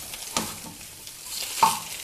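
Chopped garlic chunks fry in a pan of oil with a soft sizzle, and two sharper stirring scrapes stand out. Nobody speaks, and the sizzle sits close and moderately quiet.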